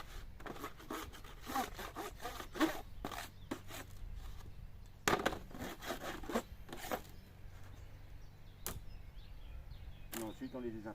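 Excess propolis is scraped off beehive frames with a tool in a series of short, rasping strokes, close and fairly quiet, repeated in an irregular rhythm over several seconds.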